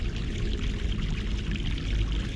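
Fresh mountain water pouring in The Longest Journey, a steady close gushing stream with a continuous rushing, splashing texture and no voices.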